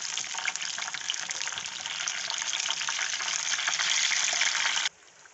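Chicken bread fries in a pan, a dense, close, continuous sizzle that builds slightly louder for about five seconds, then cuts off abruptly into near silence, with no voices.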